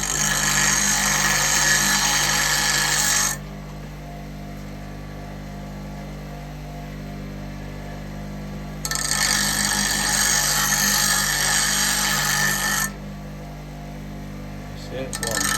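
Roughing gouge held to a spinning bench grinding wheel for woodturning sharpening, a loud hissing grind in two bursts over a steady motor hum that continues between them.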